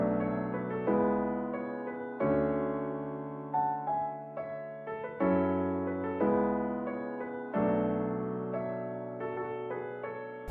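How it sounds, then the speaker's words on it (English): Piano run through a Waves Studio Rack preset with drive, room mic and reverb for an emotional West Coast beat, playing slow, spaced chords that swell and ring out with a warm, slightly gritty tail, moderately quiet and alone. "But I added some drive and room mic and reverb,"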